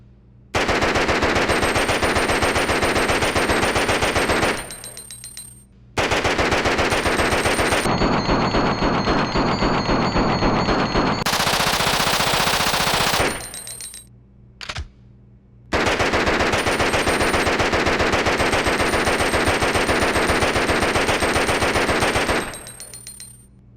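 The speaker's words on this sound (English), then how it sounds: "when you first acquire the submachine gun, it only has 20 rounds in it," A submachine gun fires in the Resident Evil Outbreak game: loud, sustained automatic bursts with rapid even rhythm, broken by brief reload pauses and mechanical clicks, no voices.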